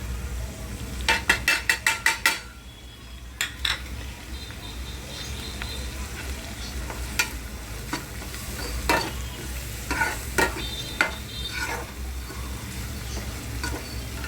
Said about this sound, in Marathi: आता ह्याच्यामध्ये आपला हा मसाला टाकायचा